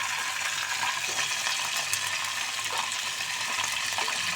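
Rui fish sizzling in hot oil in a pan, a steady close crackle and hiss running evenly without pause.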